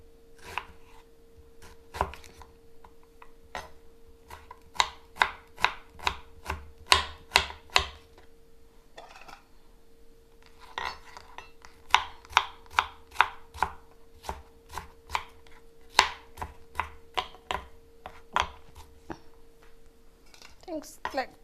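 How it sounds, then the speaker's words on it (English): A knife chops an onion into very thin slices on a board, giving a long run of sharp, evenly paced taps that come in bursts with short pauses. The cuts are close and crisp, and a voice speaks quietly in places. "Cut your onion very thin."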